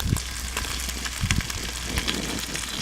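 Meat pan frying with no oil on an off-grid stove, rendering its own fat, makes a continuous hissing sizzle with a few soft low thumps from the pan.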